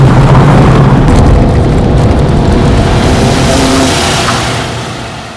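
A loud, gruff flat-four engine in a Porsche 912 revs hard up close, rough and throbbing, then fades slightly toward the end.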